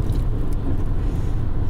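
A car rolls through bumper-to-bumper traffic on a Florida road at one in the morning, a loud steady low rumble of engine and road noise heard from inside with no talking.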